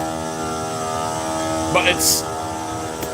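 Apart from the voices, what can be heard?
air compressor running in workshop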